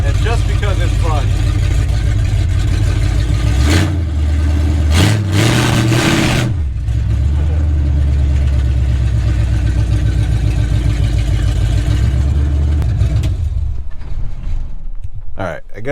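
A 1962 Chevy with a big block engine revs loudly near the microphone, deep rumbling idle rising into several sharp throttle blips and a drawn-out roar, with a person talking briefly over the engine noise.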